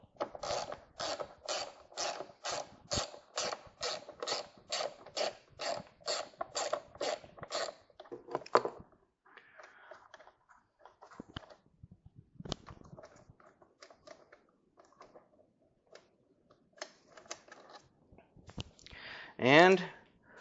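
A ratchet clicks rapidly and evenly for about eight seconds while a 10mm bolt is removed from the airbox of a VW Beetle, close and clear. Softer fiddling noises follow, with a brief voice near the end.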